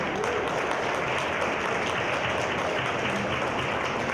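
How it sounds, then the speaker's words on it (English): Steady, loud applause from a conference audience honoring investment competition finalists, a dense, continuous wash of many hands clapping with no pauses throughout. "big round of applause to all the finalists who are here today."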